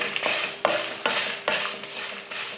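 Red chillies with Kashmiri chilli, chana dal, urad dal and coriander seeds are dry roasted for vangi bath powder, a spoon scraping and tossing them in a pan in repeated rhythmic strokes, close and without speech.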